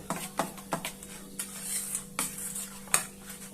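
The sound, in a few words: stirring the batter mixed with Eno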